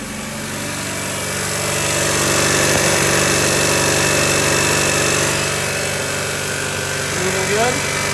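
A car engine runs steadily after being started, a continuous idling hum with engine vibration at moderate loudness; belt and alternator are in working order, and a person can be heard talking faintly underneath.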